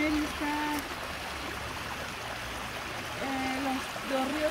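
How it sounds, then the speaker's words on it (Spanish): A river flows through the middle of a cemetery in the State of Mexico, making a soft, steady rushing and trickling beneath faint voice-like tones. "Y este panteón tiene su río en medio."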